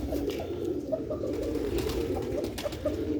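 Sialkoti pigeons cooing close by, soft repeated low coos in an uneven rhythm over faint background noise.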